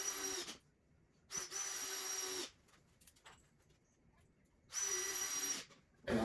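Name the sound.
drill driving screws into a door header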